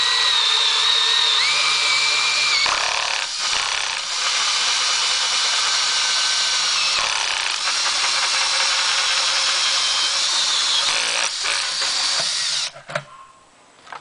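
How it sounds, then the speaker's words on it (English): A battery drill spins a 4 inch hole saw through a plastic five-gallon bucket, a loud steady whining grind lasting about twelve seconds with brief dips, then stopping abruptly as the cut finishes. "It shouldn't take too much to drill through this plastic."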